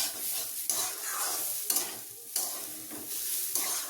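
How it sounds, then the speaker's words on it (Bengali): Shyama rice sizzling as it fries in a pan and is stirred, a steady close hiss broken by periodic scraping strokes of the spoon, with no voices. "এবার ভালো করে আমি শ্যামা চালটাকে একটু সময় নিয়ে ভেজে নিচ্ছি।"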